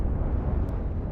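A ship explodes in a space combat video game after being destroyed by mining lasers, heard as a dense, roaring low rumble that holds steady and loud through the moment.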